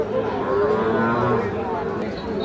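A three-month-old crossbred bull calf at the Ambari cattle market gives one loud, drawn-out moo close by, held steadily for a couple of seconds over faint market background.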